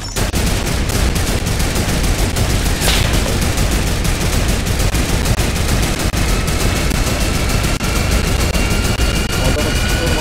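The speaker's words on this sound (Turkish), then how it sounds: "Adama sıkıyorum ama." Dense, loud rapid-fire gunfire in a game fills the whole stretch as an unbroken rattle of shots, with a higher engine-like whine running beneath.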